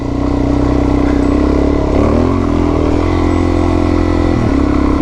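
A dirt motorcycle rides over bumpy trails in Bellthorpe National Park with a loud, close, steady engine drone whose pitch rises and dips briefly as the bike works over the bumps.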